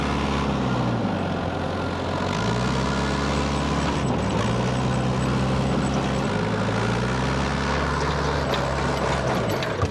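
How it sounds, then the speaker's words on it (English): A four-wheel-drive vehicle labours up a hill during harvest in a low gear, its engine droning loud and steady with pitch dips and rises as it strains, close and continuous throughout. "I'm in four-wheel drive here and I can't even get up this hill"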